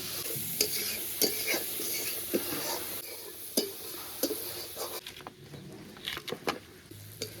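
A ground paste with red chili powder, coriander powder, turmeric and salt fries in oil for a fish roe curry. A constant sizzle runs beneath frequent spatula scrapes and stirring knocks, which grow busier toward the end.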